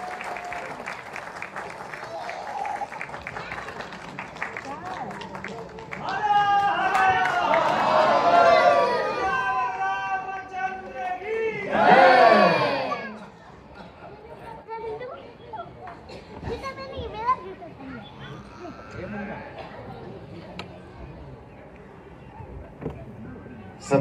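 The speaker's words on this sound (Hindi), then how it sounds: "जोरदार तालियों से उनके स्वागत करिए।" Crowd at an award ceremony in Mumbai claps and cheers in loud bursts, with an announcer's amplified voice speaking over the hall before and after the swells of applause.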